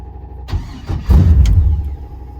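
A carbureted LS engine swapped into a second-generation Firebird cranks briefly, catches and fires up, then settles into a loud, rough low rumble close by.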